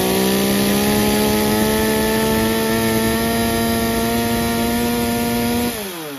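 Chainsaw engine held at wide open throttle around 14,000 RPM during carburetor tuning, a loud, close, sustained high-pitched scream that drops off sharply at the end.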